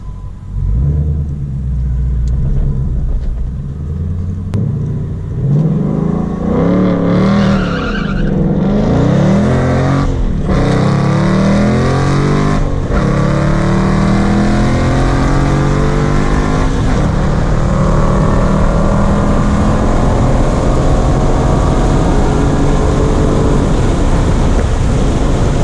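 A drag car on slicks with a new race clutch launches hard, its engine rumbling and climbing through loud revs as the tires spin and squeal, then a long sustained roar continues close and dominant.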